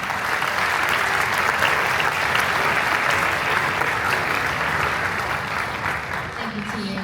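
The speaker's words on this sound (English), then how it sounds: "can you please give them a round of applause?" A summer strings camp audience claps for the teaching assistants in a dense, sustained round of applause. The clapping holds steady and loud for several seconds, fills the room, and tapers slightly at the end.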